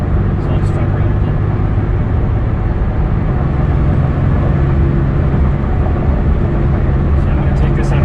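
A supercharged second-generation 2015 Toyota Tacoma with a six-speed gearbox cruises along, its engine drone and road rumble loud and unbroken from start to finish.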